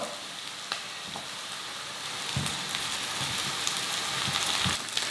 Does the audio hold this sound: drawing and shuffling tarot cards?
no